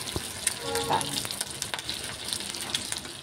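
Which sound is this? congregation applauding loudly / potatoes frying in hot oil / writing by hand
potatoes frying in hot oil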